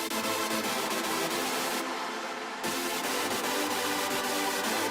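A dense, sustained hardstyle synth lead made in FL Studio, played without resonance EQ, fills the clip loud and continuous, with a brief dip in the top end partway through and no voices.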